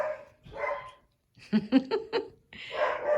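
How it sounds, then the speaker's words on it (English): A dog barks in a quick run of four or five sharp barks, fairly close, between stretches of muffled talking. "it wouldn't be a video without Athena barking."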